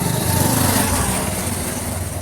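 A motorbike engine drones steadily nearby with a buzzing, light, high-pitched tone, moderately loud and with no speech, briefly swelling before easing slightly.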